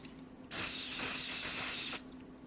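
A single sustained hiss of Apple Garde protector sprays onto the vachetta leather handle of a Louis Vuitton Speedy 25 bag, starting abruptly and stopping cleanly after about a second and a half in an otherwise quiet room.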